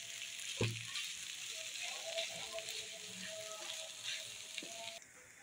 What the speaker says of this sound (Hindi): अब हम आलू भून लेंगे